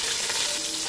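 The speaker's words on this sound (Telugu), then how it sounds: "ఇలా కాస్త ఫ్రై అయిన తర్వాత ఇందులో 2 ఉల్లిపాయలు తీసుకుని ఇలా స్లైసెస్గా కట్ చేసుకుని వేసుకోవాలి" Two sliced onions drop into hot oil with cloves and whole spices, giving a brief, dense, steady sizzle up close with no talking.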